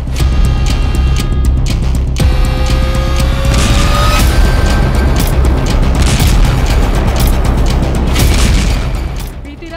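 Bombs exploding in Israeli strikes on Hezbollah positions in southern Lebanon, a dense continuous roar of booming blasts and rumbling that stays loud throughout, with faint whistling tones rising over the din.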